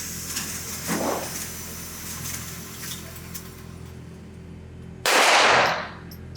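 An LMT MARS-L 5.56 rifle fired at an outdoor range: a single sharp, loud report cracks near the end after several seconds of quiet ambience.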